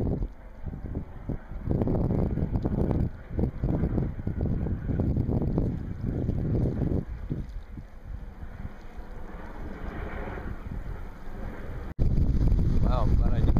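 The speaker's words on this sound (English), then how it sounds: "Wind really just picked up, and it's just sending everything flying all over the place." Strong wind gusts roar across a lakeside wilderness campsite in Algonquin, blustering loudly and continuously with rumbling buffeting against the microphone, rising to a sharper burst near the end.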